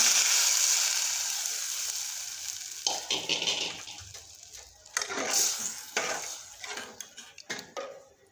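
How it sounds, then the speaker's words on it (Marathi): Cooked urad dal poured into a hot pot of black masala, starting with a strong watery sizzle that gradually settles into sloshing, stirring and clanks of a spoon against the pot. "आता आपण डाळ टाकून घेतो उडदाची"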